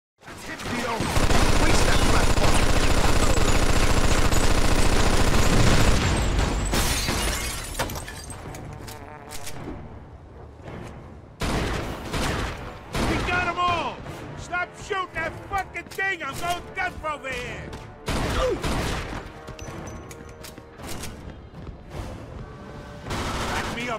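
Gunfire in the Mafia 2 video game at the Buzzsaw: a loud burst of dense shooting and shattering, then scattered shots and crashes among bursts of speech and game sound.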